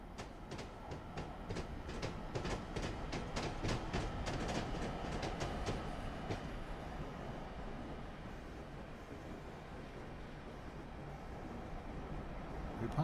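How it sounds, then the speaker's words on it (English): An ALP-45DP locomotive in Train Simulator 2017 rolls through the old Morris and Essex Railway tunnel under Bergen Hill, with a steady loud rumble and rapid rhythmic wheel clicks early on that fade into a continuous enclosed roar. "We're passing through the original Morris and Essex Railway Tunnel under the Bergen Hill, built in 1876."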